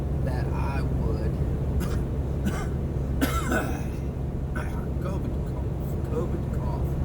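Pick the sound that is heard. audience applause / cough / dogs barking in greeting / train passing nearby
cough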